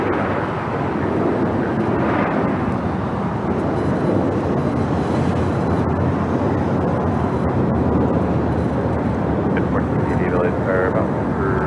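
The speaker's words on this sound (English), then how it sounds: "The next takeoff is the flight American Airlines flight 1098 in the A321neo." An American Airlines Airbus A321neo takes off from runway 25 right, its broad, sustained jet roar holding steady at moderate distance, with some faint background noise.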